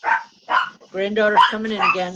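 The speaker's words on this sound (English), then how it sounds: "I apologize for my dogs, folks." Dogs at home bark and yip in short bursts, close and fairly loud, while a person speaks over the barking.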